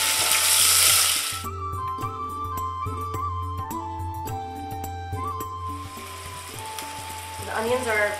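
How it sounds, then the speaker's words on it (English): Onions frying in a pan for a Pakistani stuffed tomato recipe, a loud close sizzle at the start that drops back under a stretch of steady tones and then returns as softer sizzling. "The onions are somewhat browned, and then you add the beef, cook the beef"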